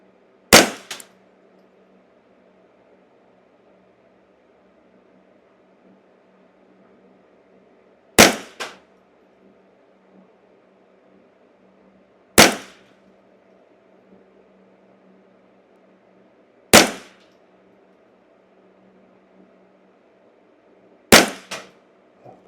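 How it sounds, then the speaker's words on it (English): A Ruger Custom Shop 10/22 rifle with its factory barrel fires CCI standard velocity ammunition. Five sharp, loud cracks come several seconds apart, with a low steady hum between shots. "We're going to see how well this thing will shoot this cheap ammo with this factory barrel and a decent trigger."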